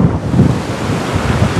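Strong sea wind roars across the microphone at the Anapa shore, with waves splashing and spray close by, loud and continuous throughout, with no voices.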